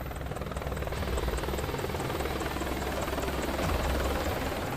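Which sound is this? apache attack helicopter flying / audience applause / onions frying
apache attack helicopter flying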